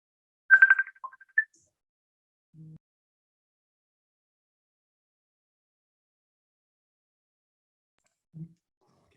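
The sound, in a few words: telephone ringing during a call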